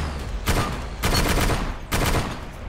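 Video game gunfire rings out in three bursts of rapid shots, each a loud, close fusillade separated by short pauses.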